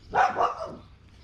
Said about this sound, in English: I can't do a video without my dogs barking.